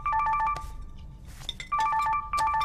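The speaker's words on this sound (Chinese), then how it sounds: "接着电话。" A phone rings in a Chinese urban drama series, with a repeating bright melodic ringtone in short bursts separated by a brief pause. It plays alone and close by.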